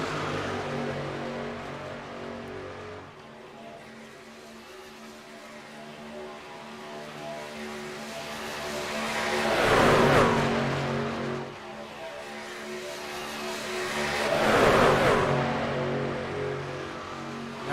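Racing truck engines drone in the iRacing game during a Truck Series race at Daytona. A steady, humming engine note swells twice as trucks sweep past and then fades again, with no voices.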